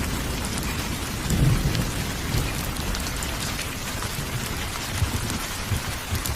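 Heavy rain pours steadily on a stormy night in a Bengali horror cartoon, with low rumbles of thunder swelling beneath the downpour, loudest near the start and again toward the end, with no voices.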